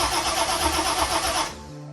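Car engine cranking very fast on its starter, a loud rapid whirring churn that stops abruptly after about a second and a half, leaving a low hum.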